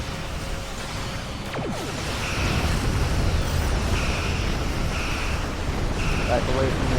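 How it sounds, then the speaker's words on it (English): A ship explodes in the space combat game Star Trek Online, a broad rumbling roar with a wash of noisy debris that swells after about two seconds and keeps booming steadily, with faint tonal game effects cutting in and out. "Back away from the explosion because apparently ship explosions got buffed at some point."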